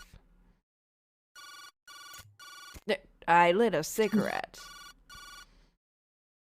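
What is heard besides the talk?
cell phone ringing in video game Jake Hunter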